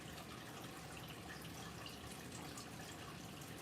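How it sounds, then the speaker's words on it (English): Water runs and trickles in a steady, unbroken wash, close and fairly soft, with no voices. "it sounds like running water"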